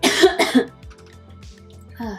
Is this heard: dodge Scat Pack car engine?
no